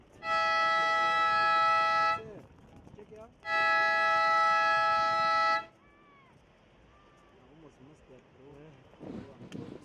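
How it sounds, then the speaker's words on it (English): Two long, steady electronic siren blasts sound at a surfing competition to end a QS 2000 semi-final heat, each lasting about two seconds with a short gap between them, followed by faint background chatter. "So that siren signals the end of the QS 2000 semi-final."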